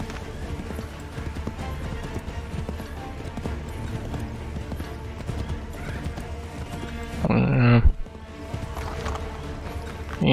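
Horse hooves in Assassin's Creed 3 Remastered, a rhythmic clip-clop of a galloping horse under game music and ambience, with a brief louder burst near the end.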